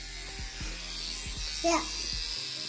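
A small electric toothbrush buzzes steadily and faintly while a toddler brushes his teeth at home, with a child's short vocal sound and a brief adult reply over it.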